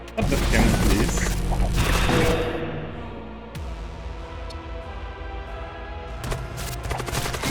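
Heavy cannon fire from a spaceship in the video game Void War, with a dense burst of loud blasts and mechanical clatter at the start, then a quieter rumbling battle and another cluster of shots near the end.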